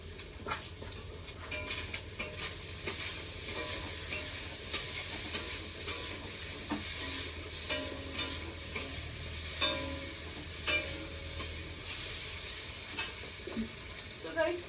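Fish fries in hot oil in a home kitchen while rice cooks nearby: a constant soft sizzle broken by regular clinks and taps of utensils, with a person talking over the cooking.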